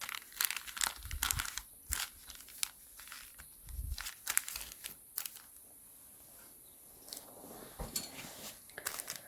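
Scissors cutting around a fabric sleeve pattern, heard as close, irregular crinkling snips and paper-like rustles in short bursts with quiet gaps between them, no talking.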